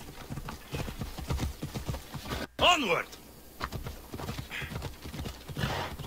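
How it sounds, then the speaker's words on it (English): Rhythmic hoofbeats of a horse galloping in the video game Assassin's Creed Odyssey, with a sharp whinny partway through and someone talking over the clopping. "this time I'm gonna need some horse now."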